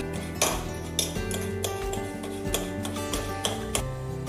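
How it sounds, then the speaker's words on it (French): Cooked broccoli mashed in a pot or bowl with a utensil, repeated clinking and scraping knocks in an uneven rhythm, close and alone over a steady hum. "Donc maintenant, le jeu, c'est juste de les écraser."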